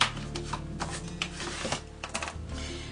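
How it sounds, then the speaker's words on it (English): Paper is folded and creased by hand, giving a series of close crisp crackles, rustles and sharp pressing snaps in an irregular rhythm. "you're going to fold the paper and make a nice sharp crease in it."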